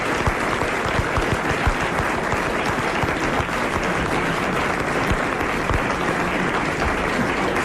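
A radio studio audience applauds continuously, with loud dense clapping that stays steady and close throughout and no break.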